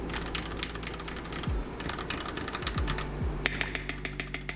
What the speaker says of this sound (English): This is actually a custom build keyboard. I built this one from the ground up. It sounds really nice.